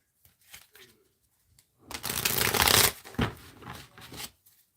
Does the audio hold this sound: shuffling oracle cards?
yes